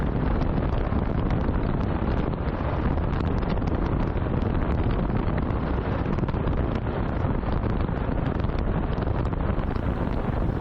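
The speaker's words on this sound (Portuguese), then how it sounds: "Passo perto do Guaíba. O vento muda." Strong wind blowing near the Guaíba river at night, a steady loud roaring gust that buffets the microphone continuously from start to finish with no pauses.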